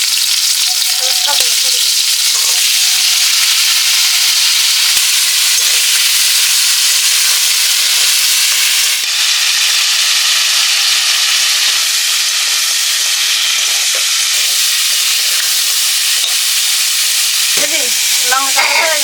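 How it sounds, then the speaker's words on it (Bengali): Crab fries in mustard oil in a wok, with a loud, dense, unbroken sizzle and hiss lasting throughout, a few faint stirring scrapes, and no talk. "কাঁকড়া মাছ দিয়ে দিচ্ছি কড়াইতে।"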